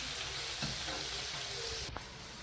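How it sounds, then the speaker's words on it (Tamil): Vegetables stir-fry in a pan for prawn noodles: a close, steady sizzle runs throughout, with a few stirring scrapes and a faint knock near the end. "இந்த வெஜிடபிள்ஸ் எல்லாம் கொஞ்சம் வடிவாக கொஞ்சம் வதங்கி கொஞ்சம் ஃப்ரை பண்ணி வந்த பிறகு நான் பார்ப்போம்"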